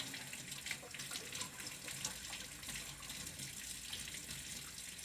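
Water running steadily from a tap while dentures are rinsed under it, a continuous soft splashing hiss with faint irregular spatter, fairly quiet and without voices.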